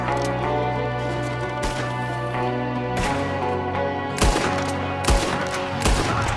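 Gunfire rings out in the video game Red Dead Redemption 2, a shootout of loud, sharp shots scattered irregularly among other battle noise and a steady musical drone.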